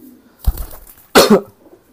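Two short bursts of pigeon cooing, close by, the second louder and throatier than the first, with quiet pauses around them.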